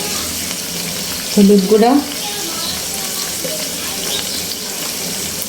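Beef liver frying in a pan with ginger-garlic paste and ground spices such as coriander and turmeric being stirred in, a steady close sizzle running throughout while someone speaks briefly over it.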